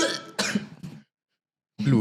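A few sharp, close coughs burst out in quick succession, followed by a short silence and then a voice starting to talk.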